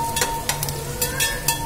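Chopped onion frying in a pan of oil for cauliflower fried rice, a steady close sizzle broken by a few sharp stirring scrapes, with no talking.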